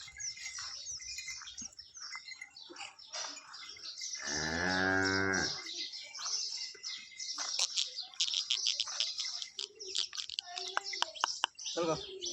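A large, freshly calved cow on its second calving gives one long, drawn-out moo at moderate distance, while birds chirp and tweet around it throughout.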